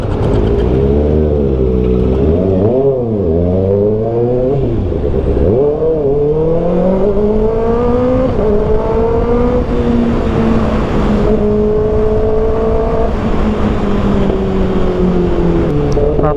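A 2024 Kawasaki ZX6R engine revs hard and loud nearby, its pitch climbing, dipping and sweeping up again through repeated blips before holding a high sustained wail.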